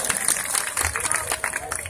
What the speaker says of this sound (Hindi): एक बार चाहूंगा उनके लिए जोरदार तालियां सभी लोग बजाएं